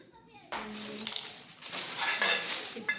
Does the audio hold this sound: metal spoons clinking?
yes